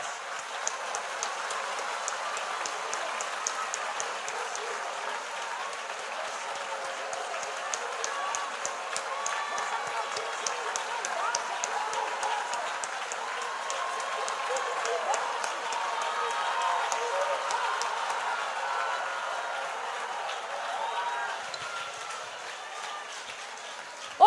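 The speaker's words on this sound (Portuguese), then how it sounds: "Eu também vou aplaudir esse Deus" A church congregation applauding during a service, a long, steady patter of many hands that stays fairly even in level across the whole stretch.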